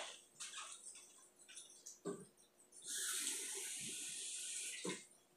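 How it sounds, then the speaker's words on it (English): A cup of water is poured during home baking, with a short soft trickle and then a steady, louder stream of running water lasting about two seconds, close by, preceded by faint clattering and no speech. "Now, a cup of water."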